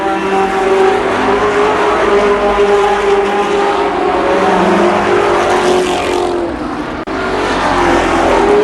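Race cars roar around the oval at Columbus Motor Speedway, a loud continuous engine drone with a brief dip as one car spins in the turns.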